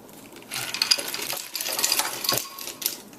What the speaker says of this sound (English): Then we're going to pour more ice onto the top